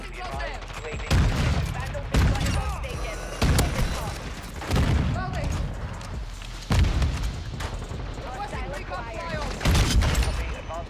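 Shotgun blasts in the Modern Warfare 2 video game, several loud booming shots spaced a second or two apart, with a player talking over the game audio between them.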